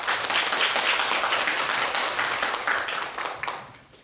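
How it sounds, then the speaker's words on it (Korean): A lecture audience applauds to welcome a professor, with dense clapping from many hands that stays full for about three seconds and then fades away. "예, 교수님 박수로 그렇게 맞이하도록 하겠습니다"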